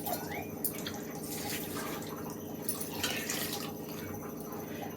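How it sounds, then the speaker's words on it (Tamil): Water is poured into a kadai pan while okra sambar is being made. A steady, faint trickle and splash sound runs through the whole clip with no break, over a low background hum. "இந்த தண்ணி இந்த கடாயில் நான் ஊற்றிடுறேன்."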